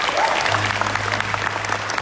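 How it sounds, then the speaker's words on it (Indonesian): A worship night concert crowd gives a sustained round of applause, a dense, even wash of clapping with a low steady musical tone humming underneath and faint talk mixed in. "Kita kasih tepuk tangan sekali lagi dong"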